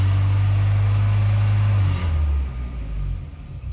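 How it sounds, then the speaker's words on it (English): Engine of a Mk1/Mk2 VW Cabriolet held at a steady rev above 2000 rpm, a loud close drone that dips and wavers toward the end, with no voices. "Now we'll rev the vehicle over 2000 for more than 2 seconds."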